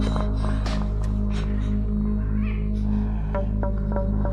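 Over a loud steady hum, a cat meows and caterwauls in several strained, wavering cries, close by and fairly prominent, in a dark house setting.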